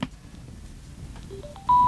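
A Sena 50S helmet communicator, fitted to an Arai Corsair X helmet, powers on with a short rising series of clear electronic beeps that climb in pitch. The final tone is louder and held, with no talking.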